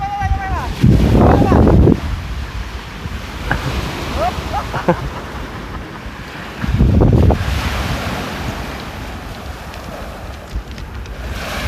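Rushing surf and wind roar steadily, with surges as waves break nearby; a few brief voices are heard under the wash.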